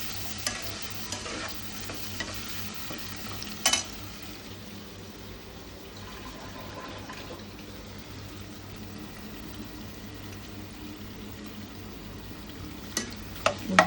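Vegetables and soaked urad dal for sambar cook in a pan with a soft, steady sizzle and occasional stirring scrapes and clacks, close and quiet, with no talk.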